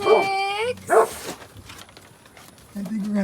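A Great Pyrenees puppy gives a few short, high yips and whimpers up close, with a person talking softly in between.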